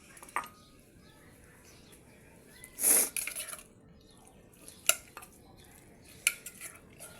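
A cooked frog dish being scooped into a bowl: faint scraping and clinks of a utensil against the pot, one louder clatter near the start and a few sharp taps later, with quiet outdoor background.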